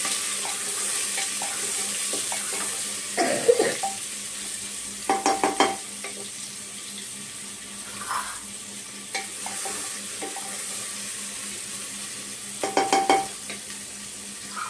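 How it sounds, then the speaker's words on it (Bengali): Diced potatoes fry with rice in a pan for a Bengali rohu fish curry, a steady low sizzle broken by a few clusters of scraping stirs and clinks near the middle and end. "আলুটা দিয়ে কিন্তু চালটার সাথে আলুটাকে একটু ভালো করে ভেজে নেব আমি"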